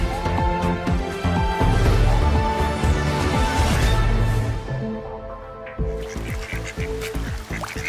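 Ducks and geese honk and quack loudly at a pond in the Oranjepark in Apeldoorn, a dense, continuous chorus of overlapping calls close at hand.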